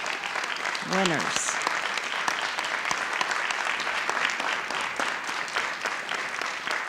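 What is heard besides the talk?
applause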